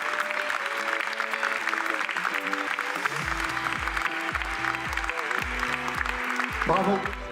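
Audience applause at a chocolate contest during the Salon du Chocolat de Tours, steady clapping filling the whole stretch while music with a pulsing bass line plays underneath.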